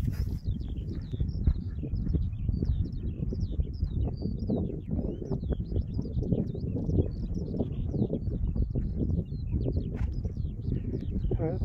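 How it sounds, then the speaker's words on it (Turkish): Small birds chirp repeatedly from the grass on a volcanic hillside on Mt Wellington, short high calls scattered over a constant low rumble of wind and movement. "Çimenlerin arasından kuş, çalı kuşu olabilir, sesler geliyor ya da böcek olabilir, bir çeşit çekirge olabilir."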